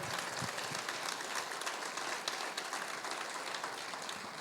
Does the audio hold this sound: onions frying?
no